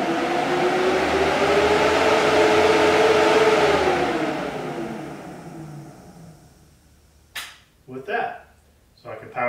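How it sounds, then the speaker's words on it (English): Built-in fans in a Star Wars X-34 landspeeder replica blow air out the back, a steady whirring rush that swells and then fades away, followed by a few short bursts of sound near the end. "they have fans built into them, so there's actually air blowing out of the back of each of them"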